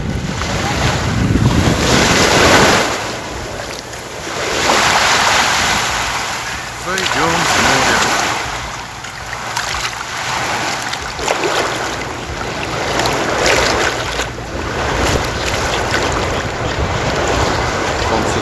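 Rough sea waves roll onto the beach at Kemer after rain, heavy surf surging and receding in loud repeated swells with strong wind buffeting the microphone.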